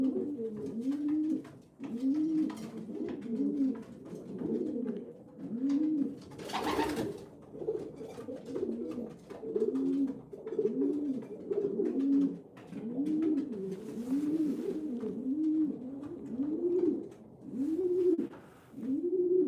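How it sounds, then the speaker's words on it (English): Pigeons cooing in a loft, a repeated rolling coo in steady phrases close by, with one brief rustle of movement partway through and no talking. "Really nice pigeon."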